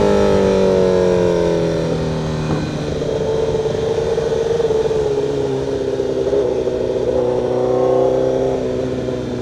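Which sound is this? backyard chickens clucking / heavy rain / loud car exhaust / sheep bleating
loud car exhaust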